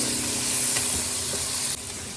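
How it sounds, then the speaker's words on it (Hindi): Onions with garlic frying in a pan while a biryani is being prepared, giving a steady, close sizzle with stirring scrapes throughout and a brief shift near the end. "प्याज को थोड़ा सा पिंक ही करना है, इसमें ये डाल देते हैं लहसुन।"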